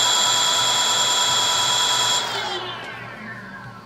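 Electric 5000 W Thunderbolt motor spinning at top speed on a 3000 W test, a loud steady high-pitched whine that holds for about two seconds, then drops in pitch and fades as it spins down.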